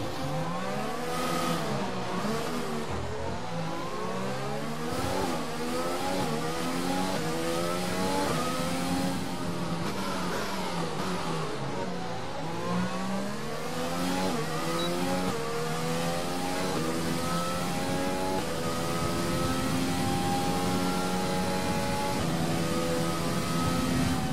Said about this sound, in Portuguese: Motor ligado, estamos prontos.